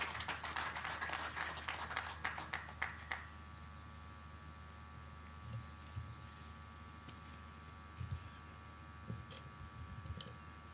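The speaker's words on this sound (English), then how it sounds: "Round of applause, ladies and gentlemen." Audience applause at the launch event for Uganda's Natural Resource Information System, a dense burst of clapping for about three seconds that then stops, leaving a quiet room hum.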